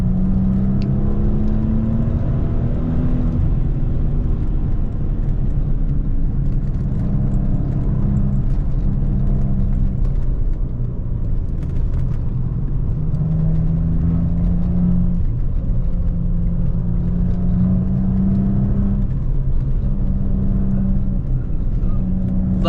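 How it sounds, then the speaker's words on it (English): Steady, loud engine drone from a 2016 Maserati Ghibli S Q4 sports sedan with a sport exhaust, heard from the cabin, with pitch rising and falling through repeated accelerations over about twenty seconds and no talk. "I can feel the vibration of that sport exhaust on acceleration."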